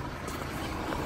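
The TFSI engine of a 2013 Audi A6 runs at a steady idle under the open hood, a close, even, low hum with no breaks.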